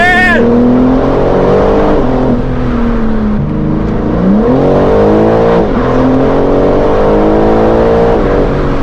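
A BMW M car engine accelerates steadily, its pitch rising and falling through several gear changes, loud and close with a continuous mechanical roar.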